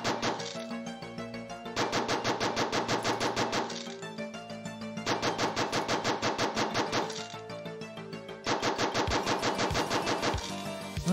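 Rapid automatic gunfire from the zombie shooting game Generic Zombie Shooter, fired in three long sustained bursts separated by brief pauses, loud and close with no talking.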